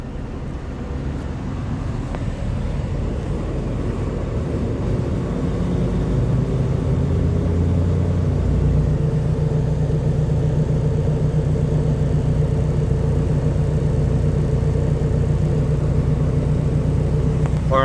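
A parked semi truck's diesel engine runs steadily during a parked DPF regeneration, a continuous low rumble and drone that holds loud and unbroken throughout, with no talking.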